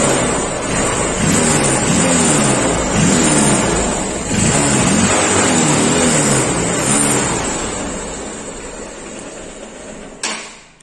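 A Ford 3600 tractor engine, just fitted with cleaned spark plugs, runs loud and steady up close for about ten seconds, its rumble rising slightly, before it cuts off with a short clunk near the end.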